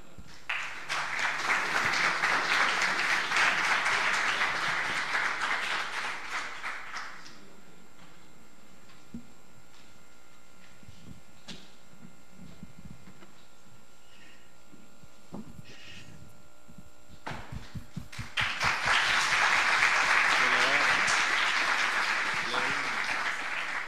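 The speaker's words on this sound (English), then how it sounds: "Big applause" A loud crowd applauds for several seconds at an awards ceremony, fades to a quiet room with scattered sounds, then breaks into strong applause again.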